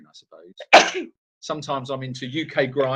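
A single sharp, loud sneeze bursts out during a live Q&A chat, preceded by brief murmurs and followed by a person talking.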